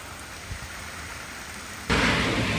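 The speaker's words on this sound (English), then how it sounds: "Right now it is really coming down." Heavy rain pours steadily during an outdoor walk through Europe, a dense continuous hiss that swells sharply louder partway through, with no voices.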